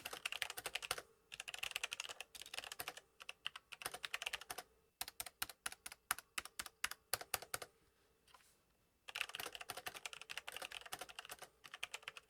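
Close, crisp typing on a Logitech computer keyboard comes in quick bursts of key clacks, broken by short pauses and one slower run of separate strokes.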